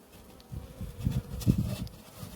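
Buckfast honeybees at a forest hive frame, a low buzzing hum with uneven pulses close to the microphone, brief and moderately loud, no speech.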